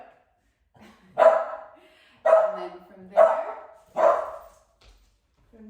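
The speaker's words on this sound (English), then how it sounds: "My dog likes to whine when I work out." A dog barks during a home workout, giving four sharp, whiny barks spaced about a second apart and fairly close, with brief quiet talk around them.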